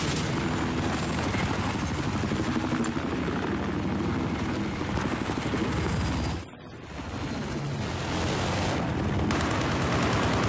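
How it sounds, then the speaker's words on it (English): An enemy helicopter's steady rotor roar fills the scene amid dense battle noise in Battlefield 4, with a brief dip in loudness partway through before the drone resumes. "Spotted. Enemy helicopter."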